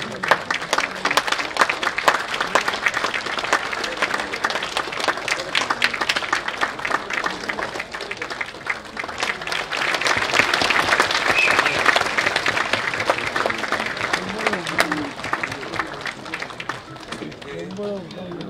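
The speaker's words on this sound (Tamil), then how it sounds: "உங்களோட கரகோஷங்களால் அவங்க எல்லாரையுமே வந்து நீங்க பாராட்டலாம்" Sustained applause from an audience at a film first-look launch event, dense clapping that swells midway and continues loudly, with occasional voices mixed in.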